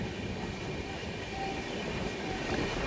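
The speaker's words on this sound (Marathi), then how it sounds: "11:50 बरोबर टायमिंगमध्ये ट्रेन सुटलेली आहे." A passenger train pulling out of Kolhapur's Chhatrapati Shahu Maharaj Terminus after rain, a steady loud rumble of wheels on rails that fills the whole stretch, close and continuous with no voices.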